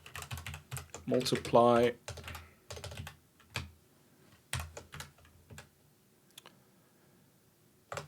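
Typing on a computer keyboard during a coding session, close-up bursts of rapid key clicks with irregular pauses, a dense flurry early on, and someone speaking briefly over the keys.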